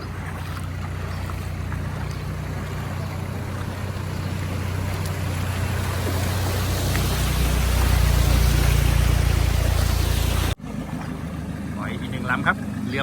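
Rescue boat launching onto floodwater after a dam break in Korat, a steady low motor drone with water wash and wind, rising louder midway before a sudden cut, as people talk nearby.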